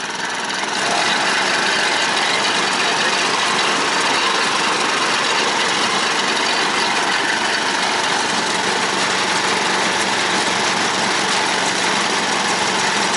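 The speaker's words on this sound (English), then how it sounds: "Look at how sick is the machine though. It's gonna be loud now. He's gonna run it." A sugarcane juice machine runs loudly and steadily, a continuous mechanical engine-like drone that holds from start to finish with no talk over it.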